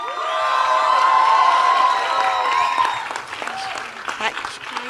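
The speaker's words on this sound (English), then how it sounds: "Can we have a huge round of applause?" A hall audience gives loud, sustained applause with cheers and scattered shouts, fading slightly toward the end.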